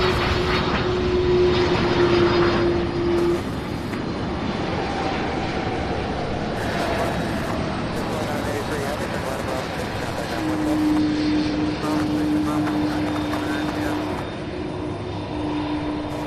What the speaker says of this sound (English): Super nice landing there by that UPS.